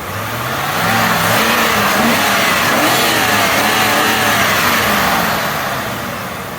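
Car engine running steadily after an idle air control valve cleaning, with a loud broadband rush of air drawn into the intake over a low, wavering engine drone, close and continuous throughout, with no one talking.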